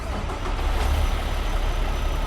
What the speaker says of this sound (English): The engine kicking on, firing up.